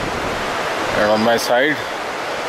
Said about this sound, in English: the river issues forth through a gorge with great ferocity